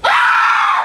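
A storyteller's voice imitates a man's loud, sustained scream, one rising cry held strongly for nearly a second before trailing off, with no other talk.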